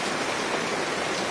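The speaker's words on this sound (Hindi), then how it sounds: "बारिश में भीगता हुआ, बारिश का आनंद लेता हुआ" Steady, dense hiss of heavy rain falling on an outdoor Ramlila performance, continuous and even throughout with no voices.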